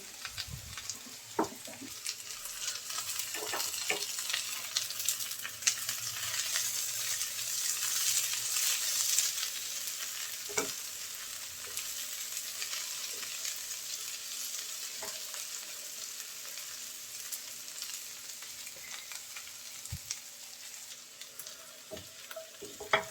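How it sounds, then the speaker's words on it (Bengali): Mou shim beans fry in a pan with a continuous soft sizzle while a utensil stirs them, giving occasional light scrapes and taps. "শিমটা আমি খুব সুন্দর করে ভেজে নিয়েছি"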